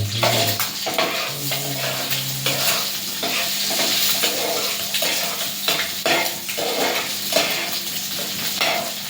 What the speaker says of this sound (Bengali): কুসুম ছাড়া ডিমটা ভেজে নেব